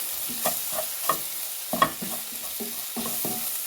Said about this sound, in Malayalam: അതിനെ ഒന്ന് ഇളക്കി കൊടുക്കാം.